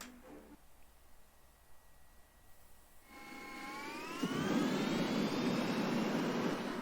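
Jet aircraft engine in a War Thunder test flight on the dev server, a steady broadband roar that swells louder midway as a rising whine climbs in pitch, with no voices.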